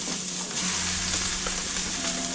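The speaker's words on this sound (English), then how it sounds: "We're gonna cook our turkey. So we're gonna saute that in." Raw turkey sautéing in a pan for homemade chili gives a steady, close sizzle that holds evenly throughout, with no talking.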